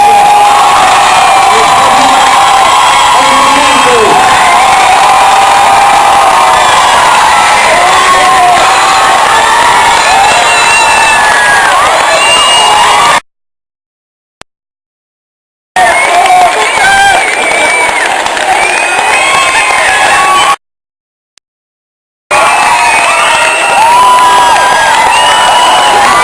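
A loud, close crowd cheers, whoops and shouts, with many children's voices, at the premiere of the film "Disco". The roar is sustained except for two brief dropouts into complete silence.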